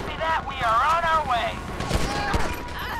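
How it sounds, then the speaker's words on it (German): Gunfire bursts crackle in a GTA 5 police-patrol shootout, loud and close, under excited talk that runs through most of the moment. "Dann schießen wir mal zurück, ja?"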